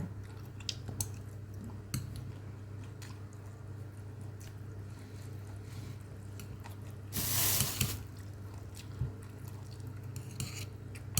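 Someone eats rice topped with pig ear, with soft, steady chewing close by over a constant low hum and one brief louder rustling burst midway.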